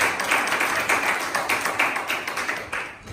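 A church congregation claps together in a steady, fairly fast rhythm to acclaim the word of God, loud and close, with no voices over it.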